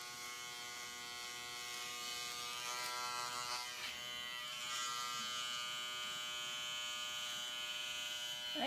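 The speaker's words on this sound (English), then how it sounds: "I have my shaver." Electric shaver buzzing steadily while shaving hair down to the scalp, a close, even motorized hum with slight changes in pitch as it presses and moves over the head.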